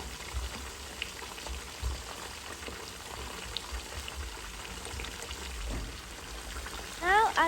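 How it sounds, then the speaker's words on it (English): Pieces of red snapper fry in bubbling hot oil with a steady, close crackling sizzle that runs throughout, and a voice briefly comes in near the end. "we will add in the other part of the fish and let that fry as well"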